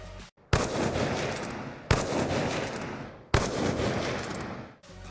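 The DSR sniper rifle from Call of Duty Black Ops 2 fires three loud, booming shots about a second and a half apart, each with a sharp crack followed by a long rolling echo that fades before the next.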